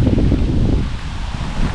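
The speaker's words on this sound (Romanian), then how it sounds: "Bate un vânt, vine ploaia" Wind gusts at Lake Ontario, a loud rushing rumble with rustling and buffeting against the microphone, steady throughout with no voices.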